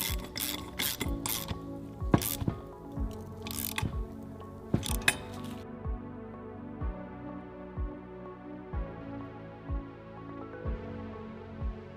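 A hand ratchet tightening bolts on an AMR turbo kit fitted to an S550 3.7L V6 Mustang, sharp metallic clicks and a few louder clanks in uneven bursts, fairly close, with tool rattle and no speech.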